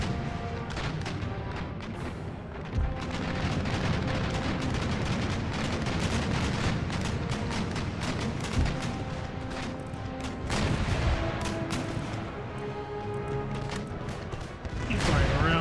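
Naval cannon fire in Empire Total War, an age-of-sail sea battle: rapid, overlapping booms and cracks of broadside guns roll on continuously, loud and dense, with heavier blasts recurring throughout.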